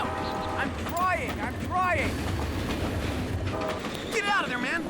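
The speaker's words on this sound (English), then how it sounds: "The train's coming, man!" Train approaching on a track, a steady low rumble with faint rail noise running under excited, overlapping shouting voices.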